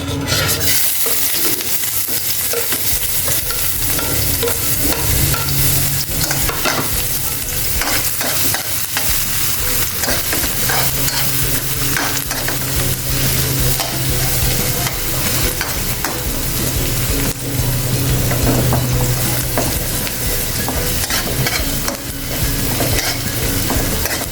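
Onions sautéing in a hot pan, a loud continuous sizzle and crackle with repeated stirring scrapes throughout, close and without talk.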